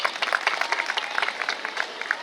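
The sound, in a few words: audience applause for the Father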